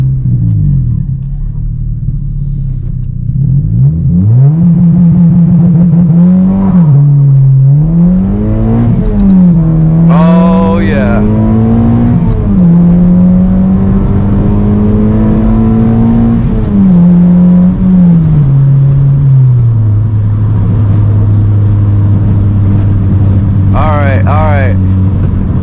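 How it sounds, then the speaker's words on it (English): A ninth-generation Honda Civic Si engine revs hard and climbs through a loud launch, pitch rising and dropping with gear changes, close and continuous for most of the stretch. "that's the first time I've ever launched a car"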